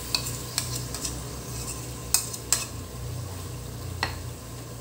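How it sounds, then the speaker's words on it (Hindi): Ground masala stirred into a hot pan for aloo gosht, with a steady low sizzle broken by several sharp scraping clinks of a spoon against the pan. "अब हम ये मसाला जो पिसा हुआ था, हम इसको ये डाल देते हैं इसमें।"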